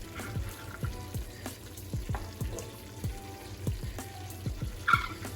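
Vegetables frying in a dark roux for a seafood, sausage and chicken gumbo, a steady close sizzle broken by regular scraping strokes of stirring, with no talking.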